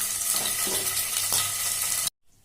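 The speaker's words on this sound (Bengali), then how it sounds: "এখন আমি হালকাভাবে পনিরগুলোকে ভেজে নেব" Paneer pieces fry in a hot kadai, a close steady sizzle with a few soft stirring knocks, cutting off abruptly into near silence at the end.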